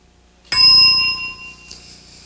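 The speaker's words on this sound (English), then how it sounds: "Don't want you to hear this description that starts at the sound of the bell." A single bright game show bell dings loudly and rings on with a long sustained tone, followed by a softer second strike.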